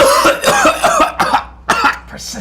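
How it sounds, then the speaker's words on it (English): A burst of repeated harsh coughs, close and loud, coming in quick clusters with short pauses between them. "Persistent cough."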